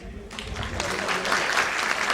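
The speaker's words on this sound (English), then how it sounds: "If you're happy and you know it, clap your hands." An audience claps along at a school annual day, a crowded, fairly loud patter of hands that starts sparse and builds into steady, dense clapping, with faint voices underneath.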